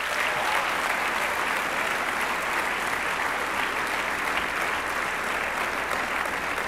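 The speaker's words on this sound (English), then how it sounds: "So let's give a big round of applause to the Maps guys" Dense, sustained applause from a large conference audience at Google I/O 2013, a loud, even wash of many hands clapping together without letting up, with no voices standing out.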